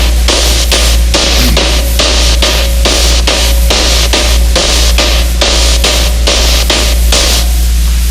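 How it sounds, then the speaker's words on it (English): Synthesized noise from an early RCA synthesizer, shaped by an envelope into a steady rhythm of loud, evenly spaced bursts over a constant low hum, with no voices. "this is synthesized noise"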